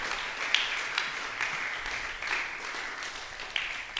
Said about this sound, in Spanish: A su nombre, bríndele un aplauso al Señor.